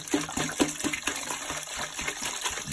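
Antifreeze poured into a toilet bowl during a plumbing shutdown, a steady liquid splashing and gushing into the water with small irregular plops throughout, close and moderately loud, no talking.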